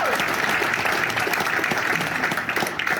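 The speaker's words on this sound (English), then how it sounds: "Let's give them a round of applause again." An audience at a business awards ceremony applauds in a full, continuous round of clapping that stays steady and loud throughout.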